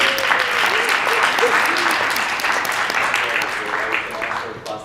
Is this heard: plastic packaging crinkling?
no